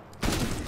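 Video game gunfire in a shooter: a single broadband gunshot burst hits loud about a quarter second in and rings on with a dense, noisy tail, preceded by quieter game ambience.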